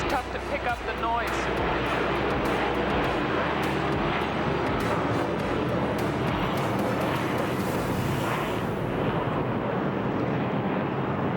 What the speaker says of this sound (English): It's a good play to serve when the airplanes are going over.